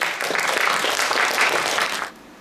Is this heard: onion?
no